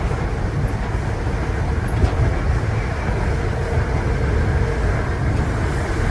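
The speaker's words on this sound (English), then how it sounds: "The Mark III bogey that's beneath me, doing what it does best, just glides along." Steady rolling rumble of a Midland Pullman train's Mark III bogie gliding along the rails at speed, a continuous low broadband roar heard from on board, with no talk.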